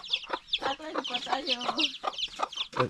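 Chickens cluck close by in a forest setting, a busy run of short rhythmic clucks and squawks filling the whole stretch, with faint human voices now and then.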